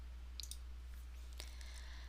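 A computer mouse clicking the preview button in Google Forms, a few faint, sharp, quick clicks against a quiet background hum.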